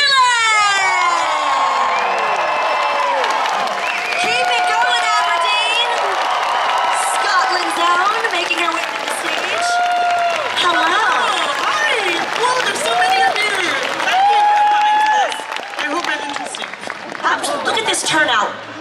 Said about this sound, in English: give a huge round of applause, make a lot of noise